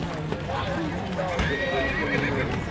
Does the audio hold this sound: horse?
yes